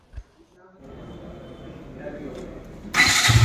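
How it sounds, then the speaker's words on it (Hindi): A KTM RC 200 sport motorcycle being started: quiet handling noises, then a starter whir, and the single-cylinder engine catches and settles into a loud, steady idle close to the listener; someone speaks over it. "और अब गाड़ी को स्टार्ट करते हैं, मैं आपको एक बार साउंड सुना देता हूँ गाड़ी का।"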